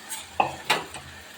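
Chicken being stirred in a large pot for seeraga samba chicken biryani, with a few sharp scrapes and clinks of a metal spoon against the pot over a faint background sizzle. No one speaks.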